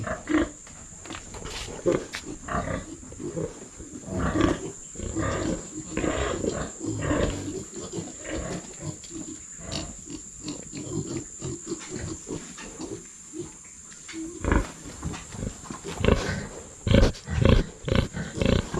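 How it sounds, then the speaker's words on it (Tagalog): Native piglets, half native and half Large White, squealing and grunting in loud repeated bursts close by, with some talk in the background. "Mga native pig."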